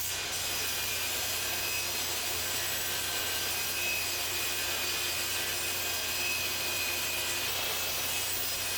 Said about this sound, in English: I raise my table saw's blade to match the height provided by that piece and make my first run.